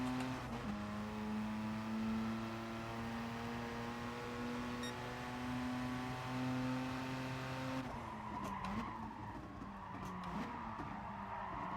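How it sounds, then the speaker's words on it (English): A race car engine in GT Sport held at high revs gives a steady, sustained whine that shifts lower near the end, with faint tyre noise underneath and no voices. "Why did I rev that out?"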